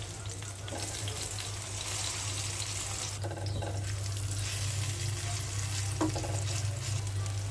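Pumpkin fritters frying in oil in a pan, a steady close sizzle with a low hum underneath and a few brief scraping touches as they are turned.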